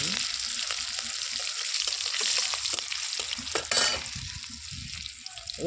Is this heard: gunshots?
no